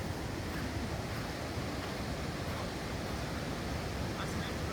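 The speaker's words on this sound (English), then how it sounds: "Oh wow, there's an actual beach here." Beach surf beside the Daintree rainforest, a steady broadband wash of waves mixed with wind buffeting the microphone, constant and fairly close with no distinct breaks.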